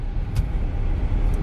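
An electric urban SUV rolls over a rough, difficult track in bumpy drive mode, giving a steady low rumble of tyres and suspension with a couple of faint high clicks, no talking.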